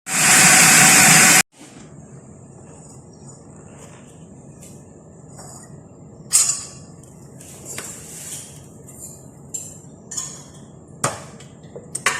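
A food grinder roars loudly for just over a second as it grinds biscuits, then cuts off. Quiet clinks and taps of kitchen utensils follow, and no one speaks.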